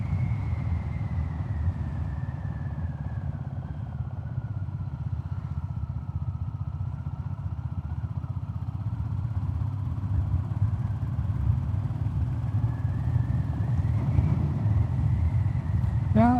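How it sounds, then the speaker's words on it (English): Steady low wind roar buffets a rider on a Classic 350 motorcycle with the helmet visor open at about 60, with the engine's drone running underneath throughout. "if you open the visor, you can feel there's a little bit more wind coming directly here inside the visor"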